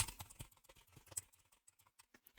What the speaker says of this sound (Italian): Quindi nel motore di ricerca andiamo a digitare Gentiluomo Digitale.